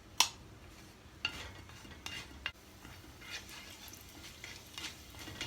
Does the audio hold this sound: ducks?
no